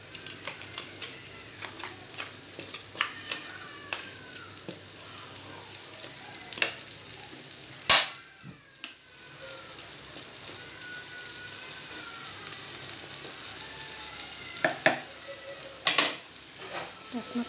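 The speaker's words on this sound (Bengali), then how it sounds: "পেঁয়াজটা ভাজা পর্যন্ত অপেক্ষা করব।" Onion fries in a pan on a home kitchen stove with a soft, steady sizzle. Scattered stirring scrapes and clinks come through, along with one sharp metallic clatter midway. No one speaks.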